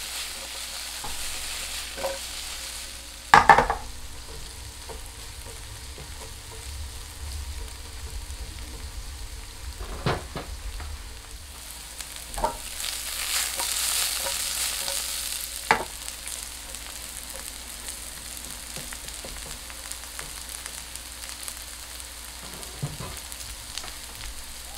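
Sliced onions browning in a frying pan, giving a steady low sizzle and crackle that swells at times, with occasional louder knocks and scrapes from the pan being handled.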